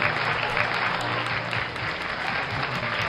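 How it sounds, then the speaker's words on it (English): A loud, even round of applause at a record award ceremony honoring a collection of black and white shoe boxes, sustained clapping throughout with a low background hum. "Here a biggest round of applause for all the awards she is receiving"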